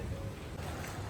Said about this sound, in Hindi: क्या मस्त हवा चल रही है गाइस, देख रहे हो तुम? फर फर फर फर फर फर।